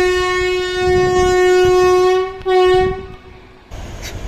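The Thiruvananthapuram–Tiruchirappalli Intercity train No. 22628 arrives at Nagercoil Town station, sounding a loud, close horn in two long blasts over rumbling rail noise, with no talking.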